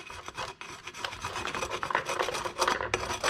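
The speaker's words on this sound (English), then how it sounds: "can we even just take a little piece of sandpaper?" Sandpaper rubs back and forth against a bicycle part during a tune-up, a continuous close raspy scraping with uneven strokes and no talking.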